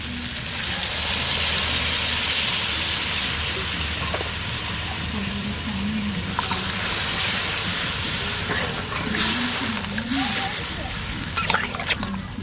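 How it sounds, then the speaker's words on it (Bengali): Water poured into a hot pan of pointed gourd curry gives a loud steaming hiss that gradually settles into bubbling, with a voice talking over it in the second half. "এখন জল দিয়ে দেব।"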